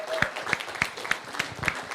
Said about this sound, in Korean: 다시 한번 힘찬 박수